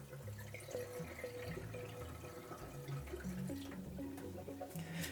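Water being scooped and poured out of a wool dye pot, with soft trickling, splashing and drips, faint and close, with small clinks throughout.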